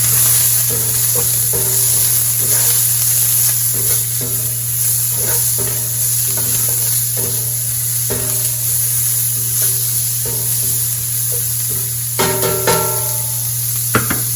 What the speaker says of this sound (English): All we're going to do is just fry this up.